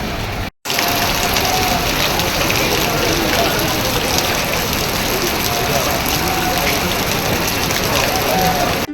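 Heavy monsoon rain falls steadily across Hosanagara taluk, a dense, loud, continuous hiss and patter that runs almost unbroken apart from one brief gap near the start.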